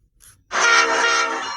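A train carrying military tanks into Washington sounds its horn, a loud, sustained blast held for about a second after a brief faint toot, close and clear with no talk.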